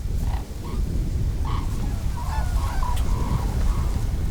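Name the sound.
red-crowned crane flock calling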